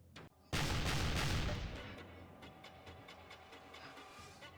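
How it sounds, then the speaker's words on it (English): Artillery shelling of cannons in the video game Sengoku Jidai: a loud booming blast erupts near the start and rolls into a long rumbling decay, followed by a series of sharp repeated cracks of gunfire. "Stop shelling my cannons"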